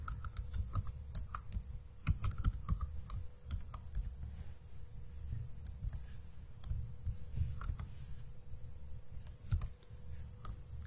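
Rapid, uneven typing on a computer keyboard, close and fairly quiet, with crisp key clicks and occasional louder strokes continuing throughout.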